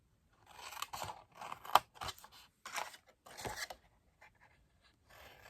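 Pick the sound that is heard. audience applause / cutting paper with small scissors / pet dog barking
cutting paper with small scissors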